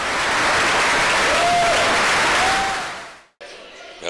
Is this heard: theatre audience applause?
yes